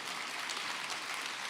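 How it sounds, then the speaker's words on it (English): Audience applause filling a crowded auditorium at a live conversation event, a steady, dense wash of clapping that holds at an even level throughout with no voices over it. "Everybody is they're clapping."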